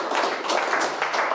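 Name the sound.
audience round of applause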